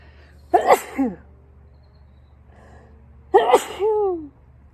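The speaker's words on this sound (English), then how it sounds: "I have to sneeze." Two loud sneezes close to the microphone, a few seconds apart, each a sharp burst followed by a quick breathy trail.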